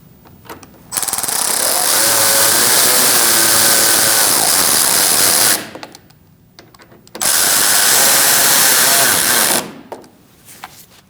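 A power tool runs in two long, loud bursts, tightening the radiator bolts on a 2016-2019 Chevrolet Cruze 1.4L. Each burst is a steady, buzzing whir, and the bursts are separated by short pauses.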